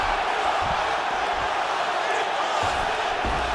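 Virtual arena crowd in the EA Sports UFC 5 fighting game roars steadily as two heavyweight fighters return to their feet after a long grappling exchange, a dense, continuous cheer with a few low thumps.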